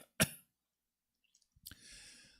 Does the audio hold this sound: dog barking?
no